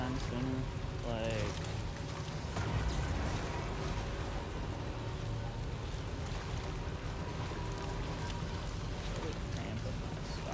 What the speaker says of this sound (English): Can this rain go away anytime soon?